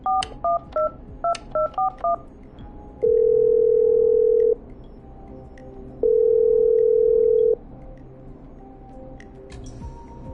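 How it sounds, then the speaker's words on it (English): Phone dialing in the video game Killer Frequency: a rapid run of about eight touch-tone beeps, then two long, loud ringback tones separated by a pause, clear and close. "Okay, I'm dialing."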